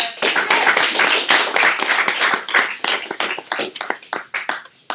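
A small audience gives a big clap at the start of a talk, a loose burst of individual hand claps that thins into scattered, separate claps near the end.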